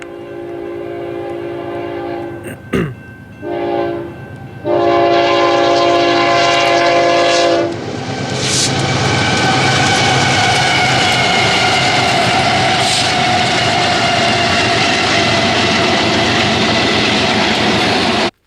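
A BNSF freight train rolls close past, its horn blaring in a few short and long blasts, then the steady loud rumble and clatter of wagons going by, filling the rest of the sequence without any talk.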